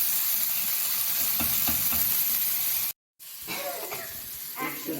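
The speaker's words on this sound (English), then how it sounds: "give it a good complete stir so we don't burn anything" Food sizzles and fries in a pan as a spoon stirs it in a home kitchen, a steady bright hiss with scraping strokes, briefly cut out before resuming.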